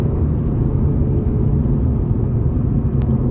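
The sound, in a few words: Honda Civic Type R FN2 driving on mountain road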